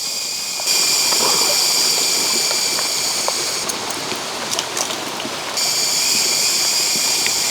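Steady rain falls, a dense, even patter with a constant hiss throughout.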